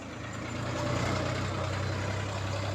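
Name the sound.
vehicle engine as a young boy drives and changes gear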